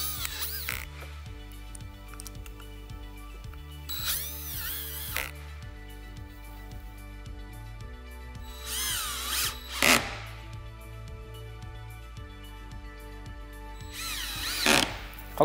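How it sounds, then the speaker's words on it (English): A power drill drives fasteners into composite decking on a drop-in dock panel, several sharp whirring bursts spaced apart between quieter handling noises and a steady background hum. "First thing we're going to do is add the bit to our drill, and we're going to set it."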